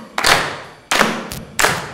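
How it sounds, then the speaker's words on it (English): Hands clapping in a steady rhythm as part of a choir sight-singing warm-up, three crisp claps spaced evenly apart, close and fairly loud with nothing else over them. "Now clap your hands."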